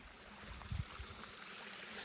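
Groundwater trickles out from between two hills near a waterfall in Meghalaya, a faint continuous wash of running water with a couple of soft splashes, no voices.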